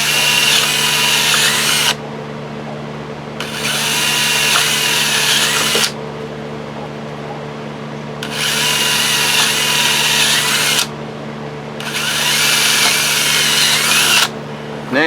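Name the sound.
power drill cleaning up a hydroponic rail hole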